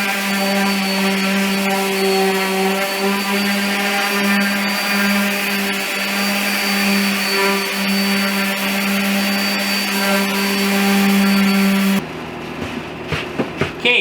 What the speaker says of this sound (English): But I gotta give this another sand.